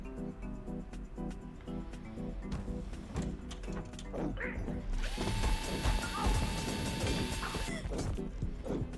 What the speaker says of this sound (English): the drill is not just a drill, it's a giga drill that you can use to break things